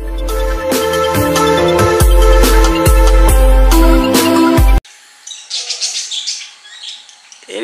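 A loud musical passage fills the first few seconds, then lovebirds that escaped from a home aviary give quick, bright chirps in short clustered bursts at moderate distance, with no talking.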